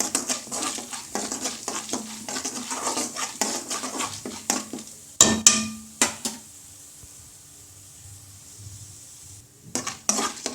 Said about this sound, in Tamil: எண்ணெய் காய வச்சு அதில் கடுகு போட்டுட்டு கடுகு பொரிஞ்சதும் கடலைப்பருப்பு கடுகு பொரிஞ்சவே இந்த மாதிரி கடலைப்பருப்பு போட்டு வறுக்கணும்